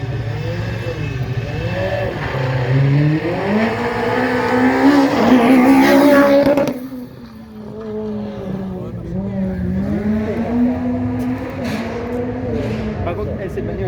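A race car launches and accelerates up a hill climb course, its engine revving through rising gear sweeps before dropping off and building again, with voices talking over it.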